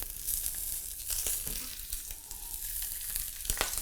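Sous vide pork chops browning in hot oil in a tri-ply pan make a continuous close sizzle with soft crackles and small shifts as the pieces move.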